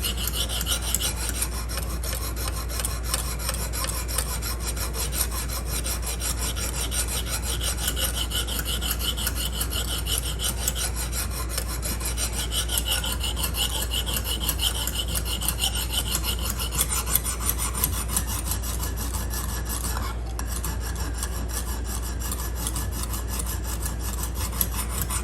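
A knife blade drawn over a Lansky sharpening system hone, giving continuous rapid rasping strokes close up, a dense steady scraping texture with no voices.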